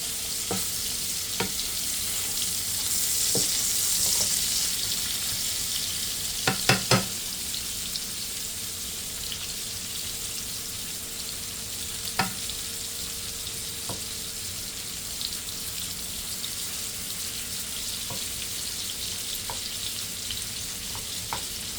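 Onions and garlic fry in a pan with a steady, close sizzle, broken by occasional clicks and taps of a utensil against the pan; nobody speaks.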